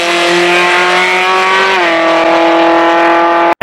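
Car engine fitted with 180-degree headers and no Y pipe, held at a loud, steady rev with a raspy, buzzing tone that dips slightly midway before cutting off abruptly at the end.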